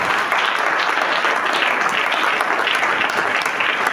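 A church congregation bursts into loud, sustained applause and cheering, a dense continuous clatter of many clapping hands filling the room throughout with no break.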